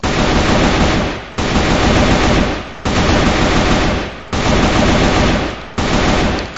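AK-47 rifle in a video game firing full-auto bursts, five loud dense rattling volleys in a row separated by brief gaps, close and alone with no talking.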